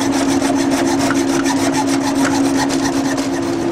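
Hand saw cutting through a metal axle rod for an oversized exhaust fan hinge kit, a steady rhythmic rasp of back-and-forth strokes, close and loud, with a constant hum underneath and no talking.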